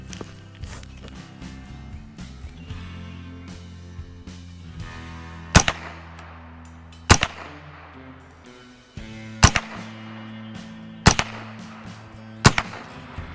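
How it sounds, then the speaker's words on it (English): Rifle shots fired at a target 30 yards away through a UUQ 3-9x40 compact scope, six sharp loud cracks spaced a second or two apart, over a steady low hum. "So let's go ahead and take some shots"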